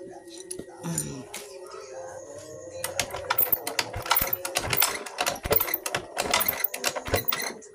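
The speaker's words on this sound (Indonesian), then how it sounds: "Kita coba dulu bagian engkolnya, kompresannya gimana" A Yamaha Mio J scooter with low engine compression is kick-started repeatedly after reassembly, giving close rattling mechanical clatter and ratcheting strokes that grow busier and louder, with someone speaking over it.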